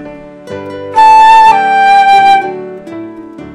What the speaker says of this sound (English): There's also the appoggiatura, which is when the first half of a written note is the pitch of the grace.